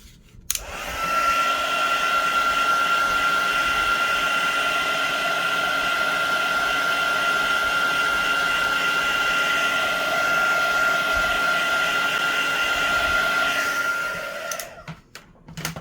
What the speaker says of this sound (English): I am going to hit this with the heat tool.